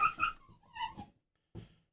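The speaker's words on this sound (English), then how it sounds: "That's my dog." A dog gives a few close, high whimpering whines in quick succession, then goes quiet before one last short whine. No one speaks.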